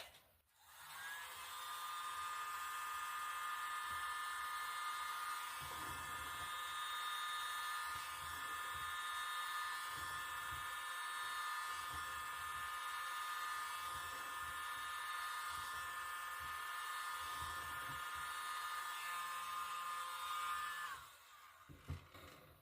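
A hair dryer blows steadily on gold and green acrylic paint in a Dutch pour, a loud continuous whirring hum lasting about twenty seconds before switching off.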